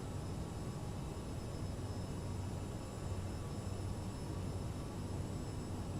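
An aeroplane taxiing in Microsoft Flight Simulator gives off a constant broadband engine drone with low rumble and thin high whines, holding an even level from start to finish without any voices.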